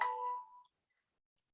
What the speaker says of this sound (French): Excuse mon téléphone.